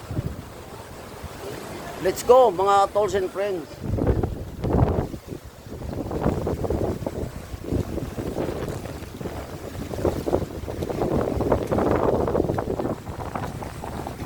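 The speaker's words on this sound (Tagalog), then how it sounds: "Tingnan natin kung gaano kalakas ang alon, no?" Strong high-tide sea waves surge against the Boulevard in Molo, Iloilo City, a continuous rough roar broken by heavier swells. Wind buffets the microphone, and someone talks over the surf.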